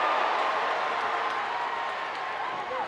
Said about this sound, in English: They got the crowd up on their feet.